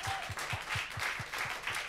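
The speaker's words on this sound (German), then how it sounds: "Einen kräftigen Applaus bitte." Steady applause from an audience, a dense continuous patter of clapping that fills the whole moment.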